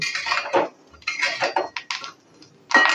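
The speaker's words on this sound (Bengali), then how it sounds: "দেখুন পুটপুট করে ফুটছে আর বাদামগুলো কেমন ফেটে ফেটে যাচ্ছে।" Peanuts being dry-fried in a pan, crackling and popping in short irregular bursts with small metallic scrapes, close and alone with no talk.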